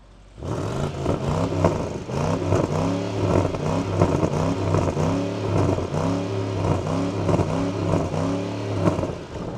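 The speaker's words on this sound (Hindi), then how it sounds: "Now listen to the exhaust also." A BMW X6 M60i with four exhaust outlets revs repeatedly, the engine climbing and dropping in about ten quick, regular bursts, loud and close, with no talking over it.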